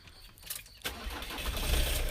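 An old, dirty van engine cranks briefly and then catches, rising into a loud, rough idle that grows fuller over about two seconds, recorded close up with no talking.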